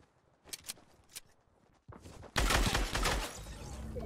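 Rapid bursts of SCAR rifle fire from an online shooter video game, a few sparse sharp shots at first and then a sustained loud continuous volley of gunfire close up, with no talking.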